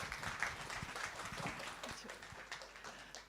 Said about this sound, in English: give a big round of applause for the Speaker of the Seimas of the Republic of Lithuania, Viktorija Čmilytė-Nilsen